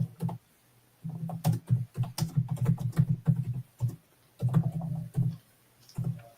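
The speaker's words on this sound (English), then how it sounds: "I'm just typing to him." Typing on a computer keyboard, nearby bursts of rapid clicking keystrokes with short pauses between runs.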